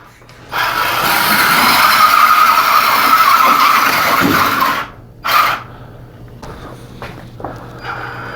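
A WLToys 10428 RC car on new tires spins its wheels and skids, giving a loud, steady scraping hiss for several seconds, then a brief second burst followed by quieter scuffs.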